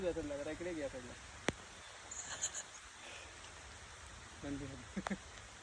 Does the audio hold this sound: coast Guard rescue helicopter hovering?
no